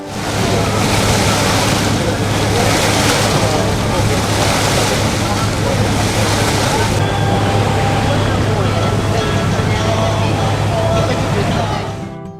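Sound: boat cutting through sea waves toward the Rio–Niterói bridge

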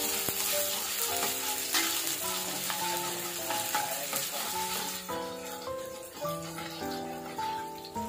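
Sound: shallots sautéing in a non-stick wok

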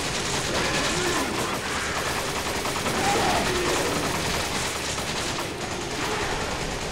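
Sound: gunfire in the video game Resident Evil 5

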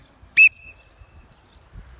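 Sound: coach's whistle at football training

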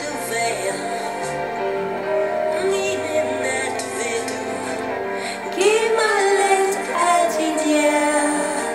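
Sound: Danish Christmas song playing

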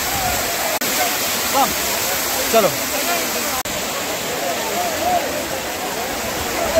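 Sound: fast-flowing water at a waterfall

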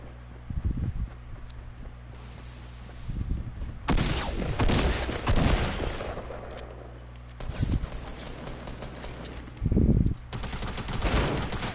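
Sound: gunfire from a video game

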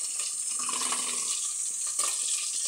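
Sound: water running while washing curry leaves

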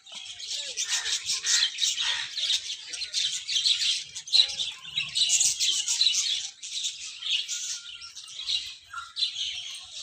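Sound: parrots squawking and chirping

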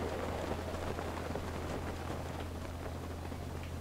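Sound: rain in the video game Zelda: Breath of the Wild

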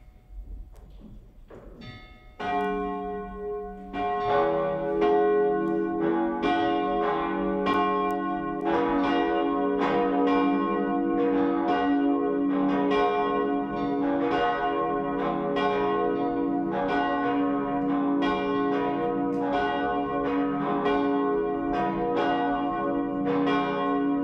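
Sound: church bells ringing

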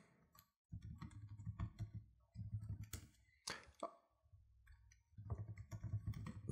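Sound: typing on a computer keyboard

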